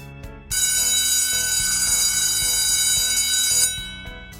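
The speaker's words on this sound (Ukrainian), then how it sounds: "Дзвоник всім нам дав наказ." An electric school bell rings loudly and continuously for about three seconds over a steady rhythmic musical backing, then cuts off.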